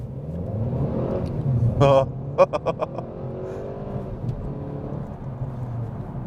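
A 2014 Mercedes-Benz CLA with a small turbocharged engine pulls hard from a standstill, a close steady engine drone rising in pitch, broken by a few sharp gear-change blips, while people talk over it.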